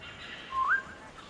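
A short, clear whistle in the video game Beasts of Maravilla Island rises briefly in pitch, a single close note over a soft background hum.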